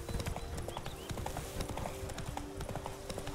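Roach the horse trots in The Witcher 3, hooves clip-clopping in a steady, brisk rhythm close by, with a faint sustained tone and occasional voice underneath.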